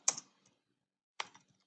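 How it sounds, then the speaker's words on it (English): Two brief bursts of clicky key presses on a computer keyboard, a quiet cluster at the start and another after a short gap, close and faint in an otherwise silent room. "I would type in the name I want to give my pool"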